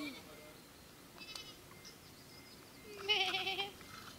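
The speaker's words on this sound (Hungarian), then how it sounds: "Andor, Andor, ott vannak fönn a kecskék, ott fönn." Goats bleat from up on a hillside, a few thin cries near the start and a louder, longer bleat toward the end over soft outdoor background.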